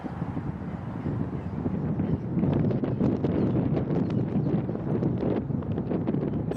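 Steady wind buffets the microphone on an open disc golf course during a final round, a constant broadband rumble and roar with no clear breaks, alone and fairly loud throughout.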